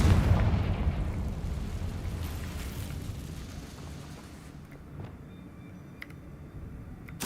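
A Confringo blasting spell explodes in Hogwarts Legacy, opening loud with a heavy boom that decays into a long rumbling tail and fades over several seconds, with a few faint sharp pops near the end.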